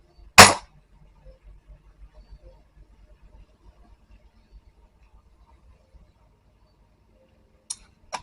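A crossbow shot fired into a banana tree trunk: one sharp, loud crack near the start, then near silence with faint ticking, and a couple of brief clicks at the end.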